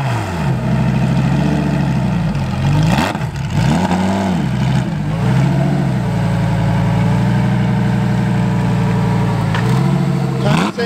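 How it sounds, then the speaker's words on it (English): A loud, steady V8-style rumble from an AMC Javelin pulling away, holding close and strong throughout while its pitch dips and climbs with a few rev changes, ending in a brief drop. "We got the super clean Javelin on his way out."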